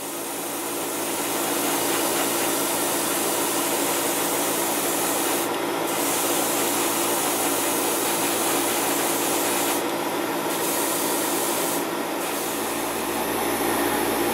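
Gundam model kit parts getting spray primed, a steady close hiss running continuously with a few brief bursts of higher, sharper spray along the way.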